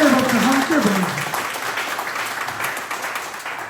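An audience applauding a guest at a hometown political report meeting, a sustained wash of clapping that starts under a speaking voice and continues alone, gradually thinning.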